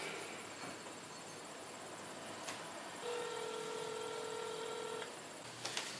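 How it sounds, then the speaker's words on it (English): A cheap phone gives off quiet, faint telephone dialing tones before a call, including one steady tone held for about two seconds, with a few clicks and no talking. "Make some phone calls."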